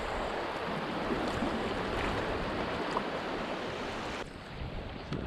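Steady broadband rush of river water at the Oak Creek confluence on the Verde River in Arizona, running at about 150, loud and continuous with no talk, easing slightly near the end.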